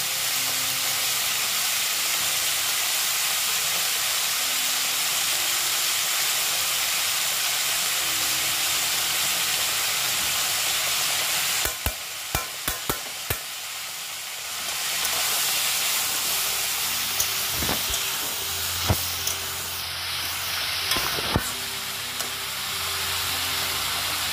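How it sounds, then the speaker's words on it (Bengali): Chopped ginger sizzling in a pan while cooking sambar dal, a dense continuous frying hiss with a few sharp clicks of a spatula stirring partway through, close, with no voices. "আমরা এখন আদা কুচি করে দিয়ে দিচ্ছি।"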